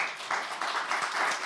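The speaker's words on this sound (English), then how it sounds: "please give a round of applause once again" A conference audience applauds after a session of speakers at an event on lake and peatland conservation, a steady patter of clapping heard faintly from a distance.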